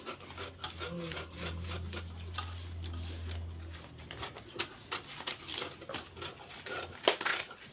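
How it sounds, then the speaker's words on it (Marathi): Extra paper trimmed away from a sewing pattern for a sleeve, the blade or scissors giving a soft, steady rasping cut that fades into lighter scattered scraping and rustling, all fairly quiet and close. "आता आपण एक्स्ट्राचा जो आपला पेपर आहे तो आपण कट करून घेऊयात"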